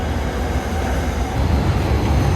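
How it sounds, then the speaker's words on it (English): Another train passes right alongside a moving Thai express train leaving Bangkok, producing a close, loud, steady rumble and clatter of wheels that builds slightly over a couple of seconds, with no talking. "we got another train going by right next to us."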